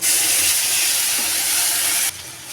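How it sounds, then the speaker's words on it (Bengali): Onions frying in hot oil for a fish curry, a loud steady hiss of sizzling that runs unbroken and then drops slightly in level near the end, with no talking. "মাছ রান্নার জন্য পেঁয়াজগুলি ভেজে নেব"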